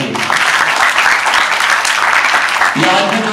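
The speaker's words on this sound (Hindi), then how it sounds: "उनके लिए एक बार जोरदार ताली बजाइए।" Loud crowd applause rises for a reporter at a felicitation event for cancer student patients, with thick sustained clapping from the audience; a voice breaks in over the applause near the end.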